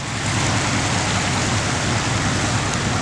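A swollen creek waterfall near an off-grid cabin after a storm, pouring heavily as a constant, close rushing wash of water.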